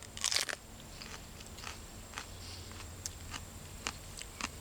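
A ghost pepper is bitten into up close: one crisp crunch at the start, followed by softer chewing crackles and faint scattered snaps against quiet garden background.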